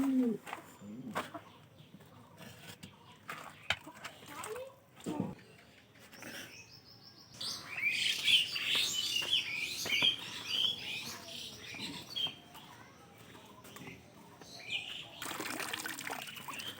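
Pigeons coo softly in a loft kept with white Serazi pigeons, while small birds chirp intermittently. The chirping grows busier through the middle, and scattered knocks and handling noises sound nearby.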